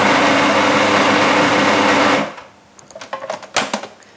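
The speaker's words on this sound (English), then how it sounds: "It's actually worth spending the time really blending it properly because the end result needs to stick together." A food processor blends a thick raw brownie mixture, its loud steady whir running for about two seconds before cutting off, followed by a few quieter scraping knocks and clatters of the bowl.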